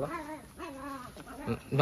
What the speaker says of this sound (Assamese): এইটো হোৱাইটত নগা ডগৰ মেল হয় দেখিছে